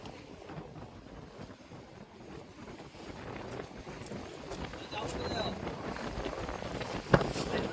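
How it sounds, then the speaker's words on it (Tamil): Strong wind roars and buffets steadily across the microphone over open sea aboard a fishing boat, growing louder toward the end, with a sharp knock near the close. "இன்னைக்கு காற்று கொஞ்சம் ஓவராக தான் இருக்கு."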